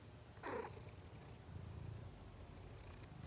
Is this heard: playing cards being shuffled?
no